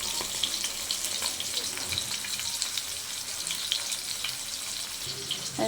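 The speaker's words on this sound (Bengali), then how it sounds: "এখানে মাছ ভাজা চলতে আছে।" Fish sizzles in oil in a frying pan, a constant close crackle and hiss with no voices.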